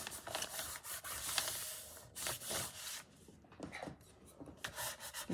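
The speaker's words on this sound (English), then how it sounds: "Get my burnishing tool out and just make sure all that sticks together." A burnishing tool rubbed over paper layers in a Stamperia Atelier Des Art journal gives close, dry scraping strokes in short bursts with brief pauses between them, and no voices.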